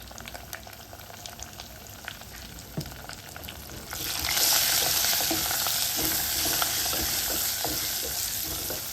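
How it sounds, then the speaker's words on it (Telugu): Garlic, curry leaves and asafoetida hit hot oil, starting with a gentle crackle and swelling into a loud, steady sizzle halfway through, with scattered pops. "తర్వాత ఎల్లిగడ్డ, కరివేపాకు, కొద్దిగంత ఇంగు వేసుకోవాలి."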